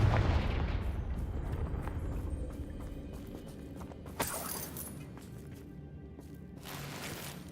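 Blasting spell explosion in the video game Hogwarts Legacy, a heavy boom at the start that rumbles away, followed by a sharp crack and a fizzing burst partway through.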